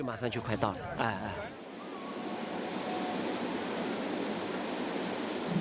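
The tidal bore on the Qiantang River in eastern China roars past as a dense, steady, thunderous rush of water. It follows a brief stretch of someone talking and then continues loud and unbroken.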